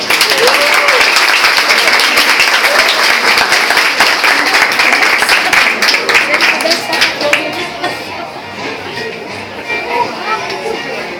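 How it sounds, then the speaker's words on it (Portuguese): Loud, steady applause from an audience for a young boy, dense clapping holding for several seconds before thinning and fading toward the end. "Palmas para ele."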